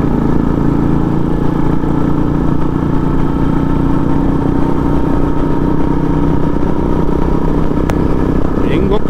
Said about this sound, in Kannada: ಹೆಂಗೆ ಹೋಗ್ತಾ ಇದೆ ನೋಡಿ ಅದು ಬುಲೆಟು